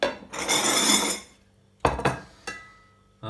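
A knife cuts through a garlic clove on a board with a sustained scraping rub, then a few sharp knocks and clinks of the blade against the surface, close and alone.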